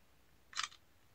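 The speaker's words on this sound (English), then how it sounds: "And then there is our camera shutter button." Single quick camera shutter click from an LG Premier Pro LTE phone, a short crisp snap standing alone against a quiet background.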